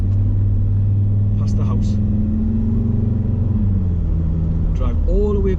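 A car drives along a rural road with a steady low engine rumble and a shifting tone as it moves, while someone talks over the engine.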